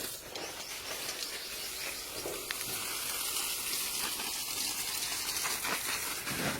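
Water sprays and splashes steadily with a faint, continuous hiss during outdoor house cleaning beside a flower garden, rather quiet and even throughout.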